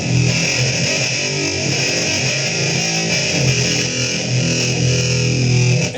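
A distorted baritone six-string bass tone drones continuously through a Boss ME-8B Humanizer effect, with a vowel-like, vocal-sounding filter sweep, loud and buzzy, with no talking.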